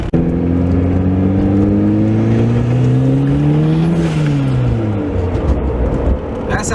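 Turbocharged Honda Prelude engine revving loudly and close, pitch climbing steadily for several seconds then dropping away as the revs fall, with a steady whir throughout.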